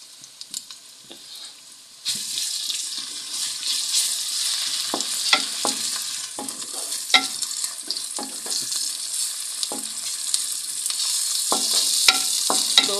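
Onion, garlic and green chillies sizzle steadily in a pan, a bright hiss that jumps louder partway through, with repeated light clicks and scrapes of a spoon stirring.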